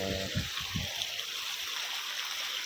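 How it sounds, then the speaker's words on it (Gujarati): Irrigation water flowing along a channel in a farm field, a steady broadband rush with low gurgles early on, continuous and moderately close. "હું તમને દેખાડું કે મારા ખેતરમાં પાણી હાલે"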